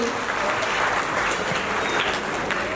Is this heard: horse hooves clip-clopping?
no